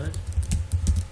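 Rapid clicks of a computer keyboard being typed on, close and moderately loud, a quick run of keystrokes with no break.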